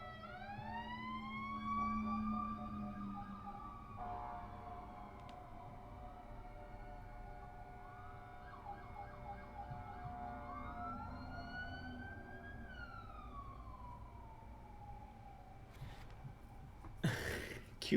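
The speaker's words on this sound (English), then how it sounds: "that's multiple different sirens" Several emergency sirens wail at once from a distance, their pitches rising and falling and overlapping steadily, with a sharp noise burst near the end.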